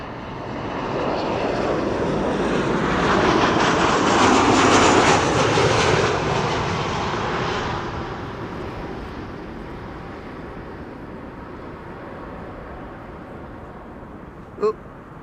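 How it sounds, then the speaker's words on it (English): A KLM Boeing 737-900 comes in to land on runway 06 at Schiphol, a broad jet roar building to a peak and then fading slowly as it passes, ending with a brief sharp knock. "This is KLM flight 1570 arriving from Porto in Portugal. 737-900"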